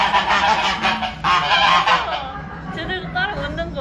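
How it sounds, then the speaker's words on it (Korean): A goose honks repeatedly in loud, harsh, nasal calls that run almost continuously, close by and with no talk over them. "저기 거위 있어."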